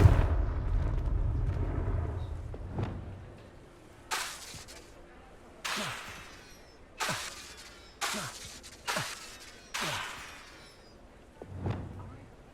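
Repeated Confringo blasting spells in Hogwarts Legacy, a series of sharp crackling bursts each with a bright, hissing tail, firing at steady intervals, loud and close, over a low rumbling backdrop.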